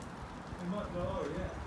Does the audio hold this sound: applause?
no